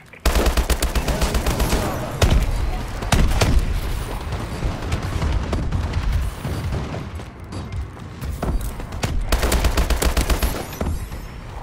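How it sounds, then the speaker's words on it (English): Dense, continuous gunfire and rapid machine-gun bursts with booming impacts from a bombing run overhead in the video game Call of Duty: Advanced Warfare, loud and close throughout, with heavier blasts near the start and end. "bombing run overhead"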